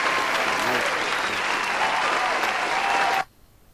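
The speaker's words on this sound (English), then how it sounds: "you deserve to give yourselves a round of applause" Loud, dense audience applause at the close of a rant show, a continuous roar of clapping that cuts off abruptly near the end, leaving near silence.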